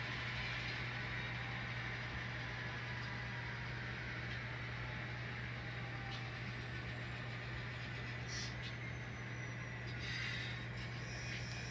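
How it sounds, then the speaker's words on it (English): An N scale model train running along layout track during switching operations, a steady low mechanical hum from the motor holding constant throughout, with faint clicks and brief higher-pitched squeals near the end. "Okay, now throw a switch, come down the lead to get our train."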